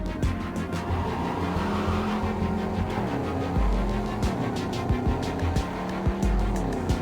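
A sports car in Cyberpunk 2077 with poor traction drives steadily, its engine droning loud and continuous while the tires squeal and skid in repeated short bursts.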